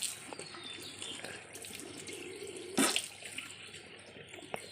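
A tap runs into a sink while a child washes her face, a soft, faint stream of water with splashes and one louder burst partway through.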